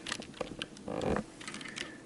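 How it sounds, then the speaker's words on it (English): Typing on a mechanical keyboard with brown tactile switches: a close, quiet run of key presses with irregular rhythm, soft clacks and one brief cluster of louder presses near the middle. "brown switch is perfect for typing because you can feel the bump"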